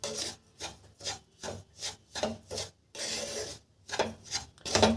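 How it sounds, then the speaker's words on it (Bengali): Semolina being dry-roasted and stirred in a pan, heard as a quiet rhythmic rasping scrape repeated about ten times, each stroke brief and close with short pauses between. "তো আমি এখন সুজিটাকে ভালো করে একটু ভেজে নিই।"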